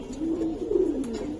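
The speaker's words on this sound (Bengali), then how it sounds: "পাথর চোখের কবুতর ভাই।" A stone-eyed Giribaz pigeon coos up close, a low, rolling, wavering murmur rising and falling across a second and a half with no other sounds over it.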